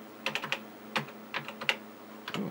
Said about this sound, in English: This keyboard needs a cleaning.